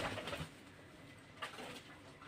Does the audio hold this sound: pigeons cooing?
yes